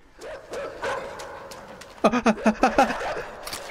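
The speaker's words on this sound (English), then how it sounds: "dog's still coming" Dog in the video game INSIDE giving a quick run of about six barks after earlier whines and yips, close and loud, with no talk over it.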